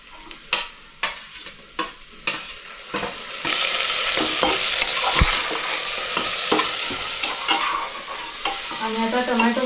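Tomatoes tip into golden-brown frying onions for a masala potato rice, a few loud spoon knocks on the pot giving way to a rising steady sizzle with scraping stirs throughout.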